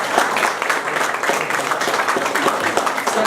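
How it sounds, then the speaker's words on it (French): Audience applause for the mayors at a medal ceremony in Oradour-sur-Glane, dense continuous clapping from a crowd filling the room at steady volume. "Vous pouvez les applaudir"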